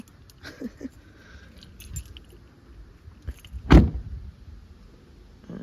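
Car keys jangle and a car door is handled during a micro car camping stop, with light rustles and clicks followed by one loud close thump near the end, recorded close up with no talk.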